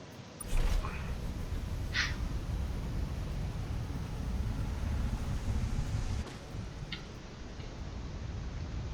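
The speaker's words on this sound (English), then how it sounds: "Okay, so it's windy here." A steady low wind roars across a planet surface in Star Control Origins, with a few faint clicks and ticks scattered through the constant rush.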